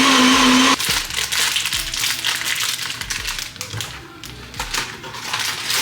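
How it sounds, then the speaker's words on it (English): A kitchen blender whirs loudly as it purées a pasta sauce made with creme fraiche and lemon, a dense, churning roar that starts after a brief higher whine and keeps going to the end. "So I'm gonna blend this all together."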